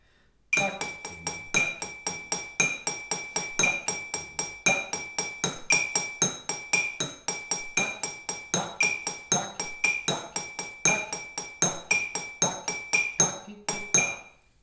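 Drinking glasses are struck in a steady, repeating takedim rhythm, each bright, ringing clink grouped into regular accented cycles that run for about fourteen seconds, loud and close, with no talking.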